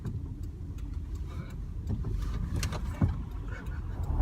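A manual-transmission stick-shift car pulls away from a stop, its engine a steady low rumble that rises slightly, with a faint thump near the end.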